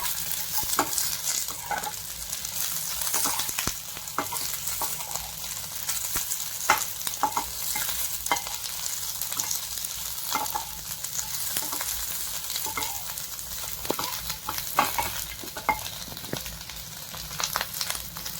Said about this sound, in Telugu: పచ్చిమిర్చి మంచిగా నూనెలో వే వేయించుకోవాలండి అలాగే కొంచెం వెల్లుల్లి వెల్లుల్లి కూడా మంచిగా నూనెలో కొంచెం వేయించుకోవాలండి